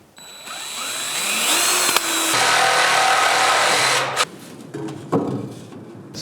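A power drill, smoking as it bores a large hole during drain and vent pipe rough-in, whines steadily at high speed for several seconds, then stops, followed by a few short bursts and clunks nearby.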